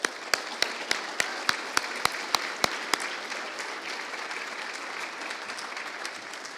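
Applause from a dinner audience at a commercialization award event, with sharp distinct claps at first that blend into a steady, moderately loud wash of clapping across the room, with no voices over it.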